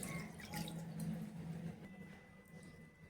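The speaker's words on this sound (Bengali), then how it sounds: "ঠান্ডা জল দিয়ে ভালো করে একটু ধুয়ে নেব" Freshly made chhana is rinsed under cold running water, giving a faint, steady trickle and splash with soft drips.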